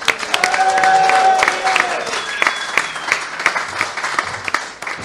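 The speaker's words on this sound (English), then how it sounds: "another round of applause" A live podcast audience gives a round of applause with some cheering, loud at first and then tapering off, with scattered individual claps and a few background voices near the end.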